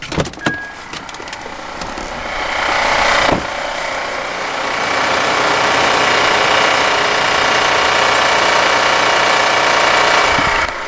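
Car engine cranked over and catching, then settling into a steady, loud close-up idle with a faint ticking that could come from the timing belt or chain.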